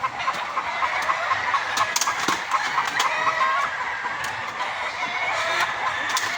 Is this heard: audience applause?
no